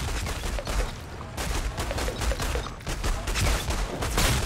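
Dense, continuous gunfire from a sidearm in the game Outriders rattles in rapid, overlapping volleys throughout, loud and close with short lulls between bursts.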